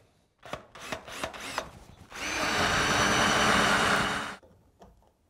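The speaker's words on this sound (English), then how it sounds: "Get the centre point of your Forstner bit right on the mark." A power drill with a Forstner bit bores into wood for a tea light holder. A few short taps and bursts come first, then one steady, loud drilling run of about two seconds that stops abruptly.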